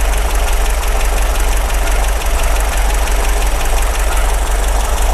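An MGB engine with SU carburetors runs steadily at idle, a loud, close, even mechanical drone with a faint knocking pulse throughout and no talking.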